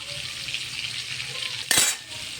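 Spice paste frying in a pan for sabudana khichdi, a soft steady sizzle broken by one sharp scrape of a spoon stirring it near the end.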